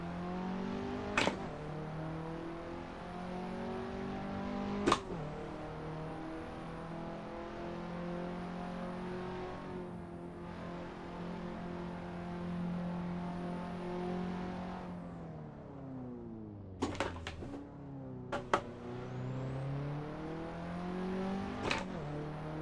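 A race car in Assetto Corsa on a flying lap around a procedurally generated track, its engine droning steadily and shifting pitch through gears, with sharp clicks and brief drops as it brakes and accelerates out of corners.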